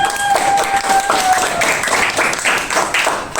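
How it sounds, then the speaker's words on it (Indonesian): A classroom of students claps for a classmate who has just finished at the front, a loud, close burst of clapping with a faint tonal hum behind it. "Tepuk tangan dulu buat Niken"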